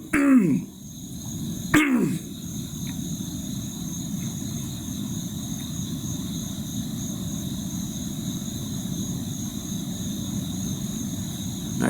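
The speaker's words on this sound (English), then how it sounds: "I was clearing my throat" A man clears his throat twice in a comic improv setting, two short rough bursts near the start and just before the two-second mark, followed by a steady low background hum.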